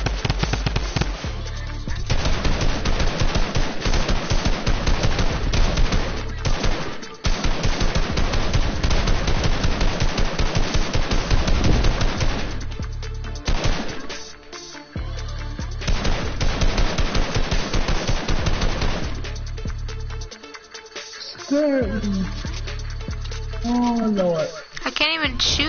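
Rapid video game gunfire bursts crackle loudly through most of the stretch, repeated volleys with brief gaps, while players chat over it.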